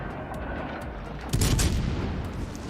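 Secondary guns on a Kutuzov cruiser in World of Warships fire in a quick cluster of muffled booms, a short burst of distant gunfire rising over steady background rumble.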